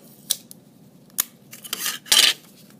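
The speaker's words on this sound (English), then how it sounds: "Tape that dowel right down the middle on one side" Tape is pulled off a roll and pressed onto a wooden dowel in a few short ripping and crinkling bursts separated by brief quiet gaps, close and fairly loud, with no talk.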